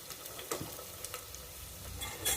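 Two chopped onions hit a hot pan for a Bihari-style Champaran mutton and fry with a steady sizzle, with stirring scrapes and clinks scattered throughout at moderate volume.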